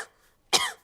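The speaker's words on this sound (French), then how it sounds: "Maman, papa, j'ai attrapé une toux." A cartoon child gives a single short, breathy cough after a brief quiet pause, close and clear.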